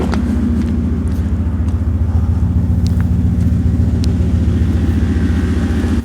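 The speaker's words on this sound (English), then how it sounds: "you'll see why you wouldn't want to drive this cross country with an exhaust system that sounds like this one" A Mercedes R107 SL convertible idles close by with a loud, deep exhaust rumble, a steady throbbing pulse that carries on alone without pause.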